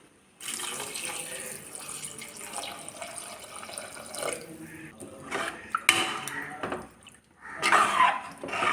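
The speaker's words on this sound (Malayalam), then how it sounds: "ഇനി ഇതിലേക്ക് ആവശ്യത്തിനുള്ള വെള്ളം ഒഴിച്ചു കൊടുക്കാം." Water pours into a pan of tomato curry, a continuous splashing flow lasting several seconds with brief pauses and surges, close and fairly loud, with no talk.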